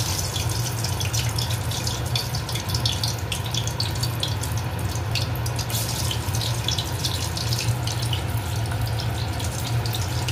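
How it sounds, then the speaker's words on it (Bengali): Cabbage snacks being fried in hot oil give a steady, fairly loud sizzle with a dense crackling hiss that runs unbroken throughout, with no talking. "এইবার এই গরম তেলের মধ্যে এইগুলি এক এক করে ছেড়ে দেয়া হবে।"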